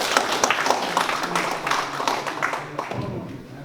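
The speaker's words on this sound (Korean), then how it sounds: "박수로 함께 해주시면 감사하겠습니다" An audience at a Korean forum study gathering applauds, a dense, steady patter of many hands clapping at close range across the whole stretch.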